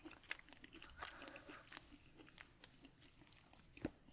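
Someone chews a soft chocolate cookie with a chewy center of stiff jam or gummy, close and quiet. The moist mouth sounds are irregular, with a few small clicks and no crunch.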